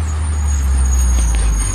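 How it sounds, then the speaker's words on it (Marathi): A city bus, route 40, pulls in on a street with a heavy low diesel rumble and a brief hiss of air brakes, close and loud with steady traffic noise behind. "40 नंबर बस आलेली आहे"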